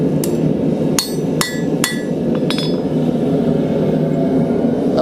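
Hammer blows ring on hot steel while straightening a blacksmith's vise spacer, several sharp metallic strikes in the first half spaced about half a second apart, over a steady roar of forge noise.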